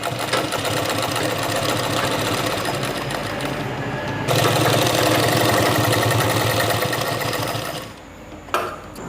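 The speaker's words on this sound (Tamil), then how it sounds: "இப்போ நம்ம தைச்சிட்டோம் பாருங்கள்." Sewing machine stitching baby pyjama fabric, a loud, fast, steady mechanical whir that intensifies partway through, then slows and stops near the end.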